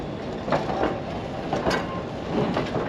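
Durango and Silverton Scenic Railroad train rolling along the tracks in Colorado, a steady rumble with rhythmic clicking wheel beats, heard from on board at moderate level without talk.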